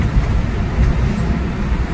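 Truck passing at speed through a long tunnel on a Mumbai highway, a loud, close, continuous low roar of engine and tyres echoing off the walls.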